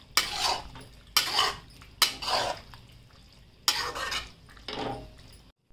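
Creamy cheese pasta with fresh cream is mixed in a pan, five separate bursts of wet stirring and utensil scraping against the pan, each lasting about half a second, with short quiet gaps between them.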